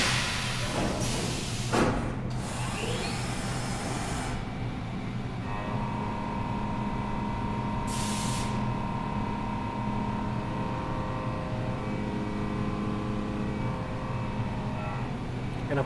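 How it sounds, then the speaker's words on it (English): Haas VF-3YT/50 CNC mill running a chamfer tool along the sharp edges of a steel part at light spindle load, a steady machine hum with a few brief hissing coolant or air bursts. "we'll come in with the chamfer tool and hit the sharp edges here"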